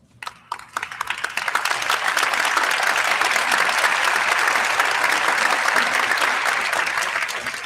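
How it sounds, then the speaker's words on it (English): Warm audience applause at a memorial celebration of a coach's life: a few scattered claps quickly build into sustained, dense clapping from a large crowd that carries on strongly to the end. "for everybody to give him a round of applause"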